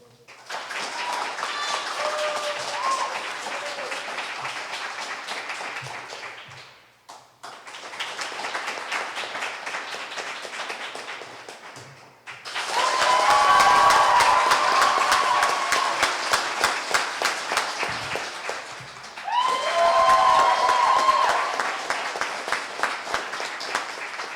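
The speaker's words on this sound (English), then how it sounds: "while I do that, you clap. Just clap." Audience at a college poetry slam claps in bursts of applause, four separate rounds of steady clapping, the later two louder and fuller, with brief quiet gaps between them.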